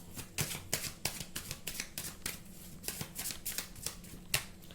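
Tarot cards shuffled by hand in a quiet room, a rapid run of crisp riffling flicks and soft slaps repeating steadily for several seconds, close and clear with no talking.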